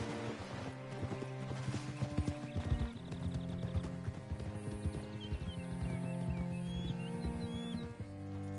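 Horse hooves in Red Dead Redemption 2, a steady run of clip-clop steps carrying on through the scene alongside a musical backdrop, with faint bird-like chirps appearing later.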